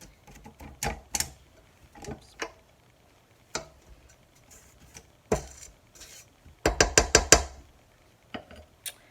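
A mixing bowl of creamed blueberry cake batter with corn syrup is scraped down, giving irregular taps, knocks and scrapes, ending with a burst of rapid clattering strokes, close and fairly loud.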